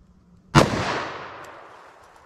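A single sharp .357 Magnum handgun shot fired into ballistic gel cracks loudly nearby, followed by a reverberant decaying tail outdoors.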